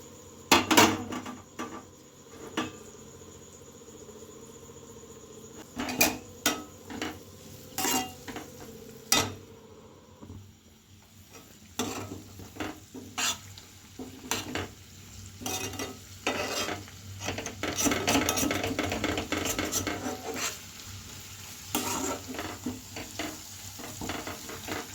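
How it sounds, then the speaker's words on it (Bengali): Chopped onion, garlic and ginger fry in a pan with a low steady sizzle, broken by sharp clanks and scrapes of a spatula stirring against the metal, the stirring growing busier and denser in the second half, with no voices. "তো এই যে পেঁয়াজটা অনেকটা ভাজা হয়ে গেছে"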